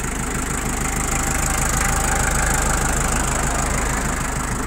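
A Shibaura D335 mini tractor's 35-horsepower four-cylinder engine idles steadily and evenly with a close, rattling hum, holding a constant rhythm without revving.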